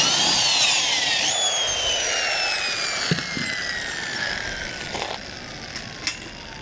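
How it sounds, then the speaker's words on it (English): A power drill bores through wood on an ATV trailer while E-track is bolted in place, a loud steady whine rising and falling in pitch with a few sharp knocks, no voices. "Drilling through wood is so much easier."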